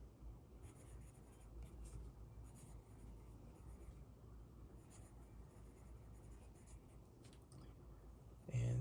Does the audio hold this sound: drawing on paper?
yes